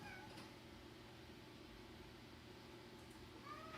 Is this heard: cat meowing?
yes